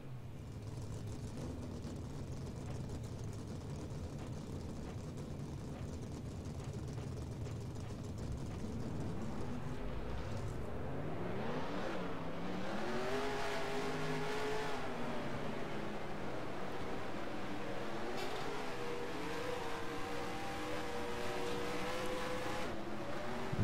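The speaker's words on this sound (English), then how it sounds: "Drivers, start your engines." Stock car engines in the NASCAR Racing 2003 video game crank over and rev up together from about ten seconds in, a loud rumbling pack of V8s with rising and falling pitch sweeps after a low idle hum.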